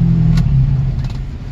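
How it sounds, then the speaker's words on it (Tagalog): Toyota Corolla engine catching right after a starter carbon brush replacement: a brief crank and firing settling into a loud, close, steady idle hum with no speech. "So yun, one click mga paps, gawa na yung starter."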